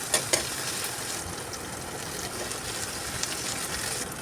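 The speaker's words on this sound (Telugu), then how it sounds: "ఇప్పుడు ఈ ఆయిల్లో పచ్చిమిర్చి, ఉల్లిగడ్డ, అల్లం వెల్లుల్లి పేస్ట్, కరివేపాకు, తాలింపు గింజలు వేసి కొంచెం ఫ్రై చేసుకోవాలి" Green chillies, onion, ginger-garlic paste, curry leaves and tempering seeds frying in oil, a soft steady sizzling hiss with a couple of small pops near the start; no one speaks.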